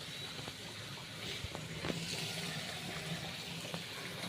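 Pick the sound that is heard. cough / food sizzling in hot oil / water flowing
water flowing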